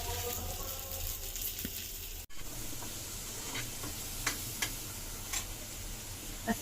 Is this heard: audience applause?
no